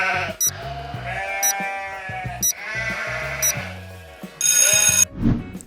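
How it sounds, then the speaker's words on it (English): Several loud, close sheep bleats sound one after another, with a repeating electronic chime marking each one and a brighter ringing tone near the end. "Yes, a sheep."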